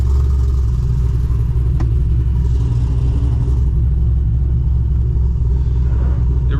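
A supercharged 800 hp C6 Corvette drives along with a loud, steady low engine rumble and drone heard from inside the car, with no speech.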